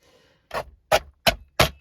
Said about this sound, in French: qui est bien avec la guillotine, c'est que vous pouvez couper des grosses épaisseurs